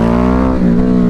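A 2021 Ducati 950 Hypermotard motorcycle engine roars under hard acceleration as the rear wheel lifts, a loud, steady, close-up engine drone running continuously through the short stretch.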